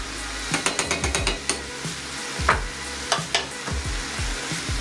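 Cherry tomatoes and turkey stirred in a frying pan make a run of quick, close scraping knocks over a steady sizzle, with a few louder clacks of the spoon against the pan.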